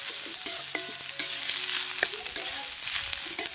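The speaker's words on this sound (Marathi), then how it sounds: "कांदा टाकले, लसूण, त्यात थोडंसं तेल टाकले आणि असं लालसरसारखं भाजून घेणार" Onion and garlic fry in a little oil on a wood-fired stove. A close, steady sizzle runs under repeated scraping stirs and utensil taps spaced about half a second apart.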